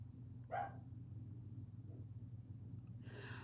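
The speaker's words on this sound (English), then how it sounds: "pardon Magic barking if you guys can hear her" A dog barks twice, once briefly and then again a few seconds later, somewhat distant, over a steady low hum.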